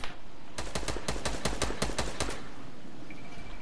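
Automatic gunfire in Fortnite: a rapid, even burst of about a dozen close shots over roughly two seconds, then quiet ambience, with no talk.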